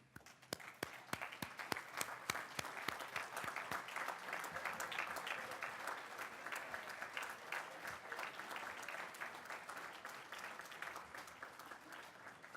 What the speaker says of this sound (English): Let's stand and let's give them a round of applause.